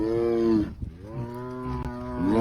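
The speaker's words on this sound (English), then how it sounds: "Are you mooing because you want to be one with the cows?" A tiger lets out long, deep, cow-like moos, two drawn-out calls with a brief grunting pause between, loud and close.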